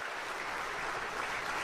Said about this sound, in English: Pence's speech was greeted by muted applause from European allies